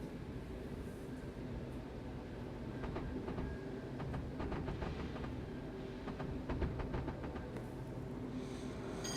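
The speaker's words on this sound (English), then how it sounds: "we're driving the Gatwick Express in the 73" Class 73 Gatwick Express electro-diesel train running on the London to Brighton line in a video game, a steady low rumble with faint rhythmic clicks of the wheels, heard from inside without talking.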